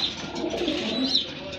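Large pigeons kept in a breeding loft give a short, soft, throaty coo, heard close and alone over faint background noise.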